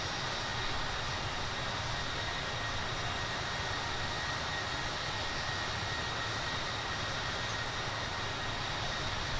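Steady, loud jet engine roar from a PMDG Boeing 737-800 at takeoff in a flight simulator, a continuous broadband rush with a faint high whine, holding constant throughout with no voices.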